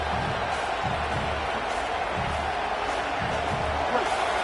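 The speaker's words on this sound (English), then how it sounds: "Listen to this crowd just shaking the girders of this place, trying to help their defense." A dense football stadium crowd roars continuously and loudly for the defense, a sustained wall of noise with rumbling low rhythmic stomping and scattered cheers.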